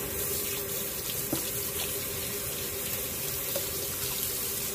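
Tap water runs steadily into a kitchen sink while chicken is rinsed before cooking Jamaican stew chicken, a constant wash with no voices.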